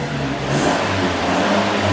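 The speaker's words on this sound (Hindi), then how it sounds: "अभी आप गाड़ी की साउंड सुनिएगा" A car's aftermarket exhaust with its cut-off valve closed, revved continuously at close range, a loud sustained engine roar with no talking.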